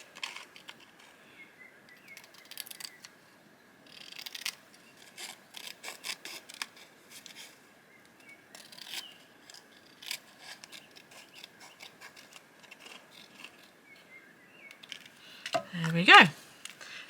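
Soft, irregular snips and crisp rasps of scissors cutting through paper, fairly close, with brief pauses and a short voice near the end.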